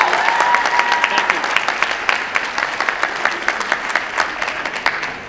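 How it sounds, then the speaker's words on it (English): An audience at an honor band concert claps steadily, a warm sustained round of applause from a sizable crowd that tapers slightly toward the end. "let's have a round of applause"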